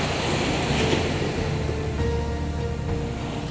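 Ocean waves wash onto a sandy beach by a fishing community, a steady, broad rushing surf that stays continuous and moderately loud with no voices.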